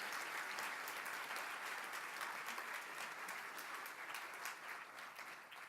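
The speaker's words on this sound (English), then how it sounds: "Truly a large round of applause for a great job done." Applause from an audience at an annual meeting, a dense, steady clapping that fills the room and stays strong before easing off slightly near the end.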